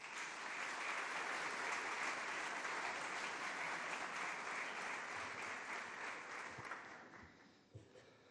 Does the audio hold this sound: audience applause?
yes